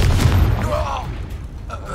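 A Confringo explosion spell from Hogwarts Legacy lands as a heavy, close boom that quickly fades, with a voice briefly heard around it.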